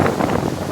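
Wind blows at a busy shopping area in Ciudad del Este, Paraguay, a loud, rough rush buffeting the microphone with no clear voices.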